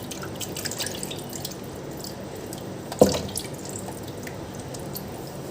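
Running tap water over raw chicken pieces being washed, a continuous splashing flow with dripping and one sharper clatter midway, with no talk.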